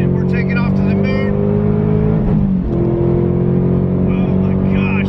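A supercharged 2021 Ford Mustang Mach 1 pulls hard at wide open throttle, the engine roaring loudly from inside the cabin with a steady rising drone and strong harmonics. A brief dip mid-run suggests a gear change before the pull resumes.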